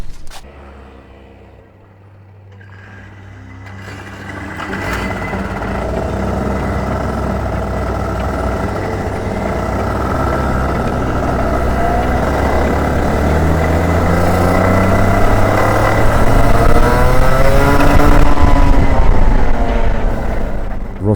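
Several go-kart engines running at the Roskilde track in Denmark during race warm-up, a steady buzzing drone that swells and grows louder toward the end, with rising and falling engine tones layered together.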